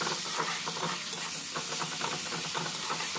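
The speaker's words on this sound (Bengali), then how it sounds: "আদা রসুনটা পেঁয়াজের সঙ্গে হালকা ভেজে নিতে হবে।" Ginger-garlic paste fries with onion in a pan for a Bengali rui fish and potato curry, producing a continuous bright sizzle and hiss with light stirring scrapes, close and steady throughout.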